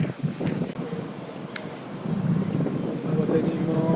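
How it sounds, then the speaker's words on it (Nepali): Strong wind gusts at the Brighton seaside, a steady roaring buffet across the microphone that builds louder in the second half, with a voice talking over it. "हावा चाहिँ एकदम आइरहेछ है हावा।"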